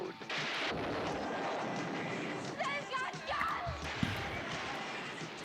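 Gunfire crackles through a movie trailer, a loud volley of sharp shots and booming hits over a dense soundtrack of music and effects, with a voice briefly heard.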